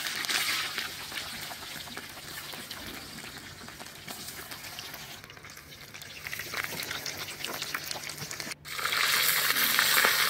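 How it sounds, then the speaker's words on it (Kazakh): Pieces of fat tail frying in hot oil for Tashkent plov, a steady broadband crackle and sizzle running throughout, briefly dipping near the end before coming back louder. "Қызған майға алдымен құйрықты салып қызартып қуырып аламыз."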